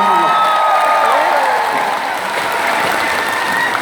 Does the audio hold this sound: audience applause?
yes